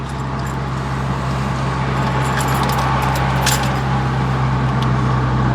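A Stage 3 Audi S3 8V with an Xforce non-resonated catback, a 4-inch downpipe and its exhaust valves open idles loudly: a steady, deep droning rumble with a constant low hum, close and unbroken.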